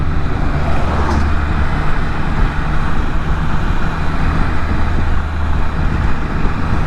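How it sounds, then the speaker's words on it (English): Steady, loud road traffic roar with semi trucks hauling hoppers and dump trucks carrying rock and aggregate, a continuous dense rumble without distinct pass-bys or talking. "See all the semis with their hoppers and their dump trucks and their rock and their aggregate"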